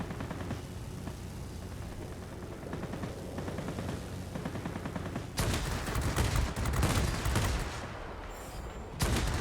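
Rapid bursts of gunfire hitting the player's plane in the flight combat game World of Warplanes, flying a Ki-88, with dense crackling fire over a constant engine roar that grows louder and harsher partway through.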